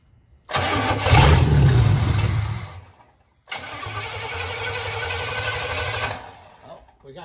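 The engine of a 1967 Pontiac Firebird that has sat for 25 years cranks loudly up close in two separate attempts, the starter grinding and churning with a short pause between bursts.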